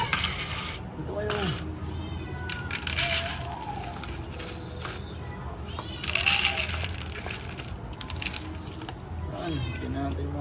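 Several cats meow repeatedly while being fed outdoors, close, rising calls scattered through the scene among rustling and crunching of food, with a person talking in between.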